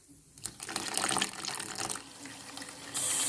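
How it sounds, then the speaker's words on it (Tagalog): Tap water runs and pours into an electric kettle during salt cleaning, a steady close splashing stream that grows fuller and louder toward the end, with no talking. "Parang dagdagan ko pa ng tubig."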